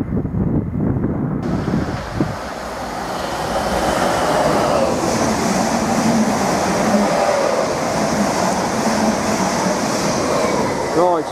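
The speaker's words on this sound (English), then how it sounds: "just had 745009 just race past en route to Norwich" Class 745 electric train racing past on a line to Norwich, a rising rushing roar that builds and holds loud for several seconds, with wind buffeting on the microphone.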